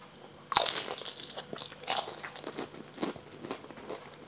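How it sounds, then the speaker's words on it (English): A loud, crisp crunch of a bite into a fried spring roll dipped in peanut sauce, then several softer crunchy chews, close to the mic with no talking. "You must be able to hear that crunch."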